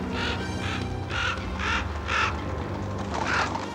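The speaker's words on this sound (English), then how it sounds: "It's probably those darn crows." Crows cawing in a cartoon scene, several harsh caws in repeated bursts over a steady background, fairly loud and close.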